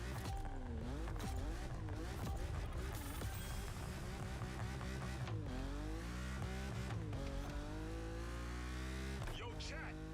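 A car engine in the racing game The Crew Motorfest revving and shifting through manual gears: a loud, steady drone that repeatedly rises in pitch and drops at each shift, with occasional tire squeal, and a voice talking underneath.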